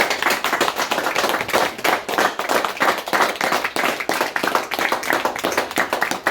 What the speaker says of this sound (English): would you mind giving our own gang a round of applause there?